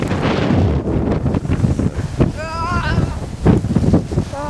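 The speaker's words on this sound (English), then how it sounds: "huge gust of wind, and we are fighting on" A strong blizzard wind gust roars and buffets the microphone in a loud, continuous rush with surging swells amid snow and sleet, while a voice briefly calls out over it.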